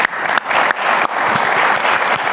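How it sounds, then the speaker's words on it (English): Audience at a business leadership panel applauding the panel members, a dense, steady wash of clapping that runs unbroken and loud throughout, with no voices over it. "can we all give them just a round of applause?"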